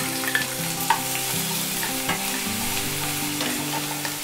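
Chopped onion frying in hot oil with cumin and asafoetida after mustard seeds crackle, a loud, dense, close sizzle with steady crackle and a stirring utensil, with no talking.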